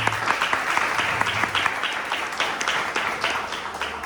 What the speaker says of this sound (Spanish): recibamos con un fuerte aplauso también